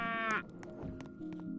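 A cow in the Roblox game Army Control Simulator gives a short, loud synthetic moo at the start, followed by quieter game sounds and clicks.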